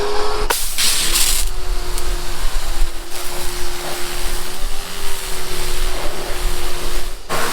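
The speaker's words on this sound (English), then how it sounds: "now we're gonna put this pressure washer to the real test" A pressure washer sprays loudly and continuously up close: a dense hissing blast over a steady motor hum, with a couple of brief breaks in the spray.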